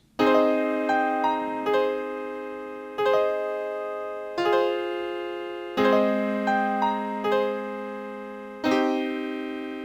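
Plain software piano preset, unprocessed, plays a slow progression of about seven chords, each struck and left to ring before the next, steady and clear with no voices.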